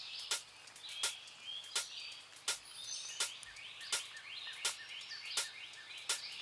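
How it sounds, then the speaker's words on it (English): Songbirds chirp in repeated short bright calls, roughly one every three-quarters of a second, alongside softer warbling phrases at moderate distance; no one speaks. "I just love the bird sounds."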